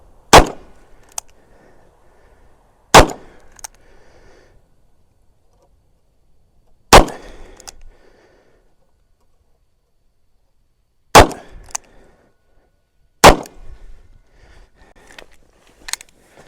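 Five loud gunshots from a Ruger GP100 revolver firing .44 Special rounds at 7 yards, each a sharp crack with a short echo, spaced several seconds apart with near silence in between.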